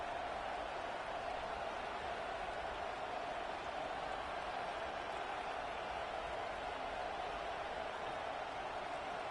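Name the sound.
stadium crowd noise in a college football video game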